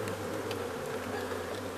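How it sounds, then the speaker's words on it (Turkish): Honeybees hum in a steady dense drone around a queen bee at a hive belonging to a beekeeping research centre, close and constant with no talk over it. "Şu an işaret ettiğimiz ana arı, kraliçe arı dediğimiz arı."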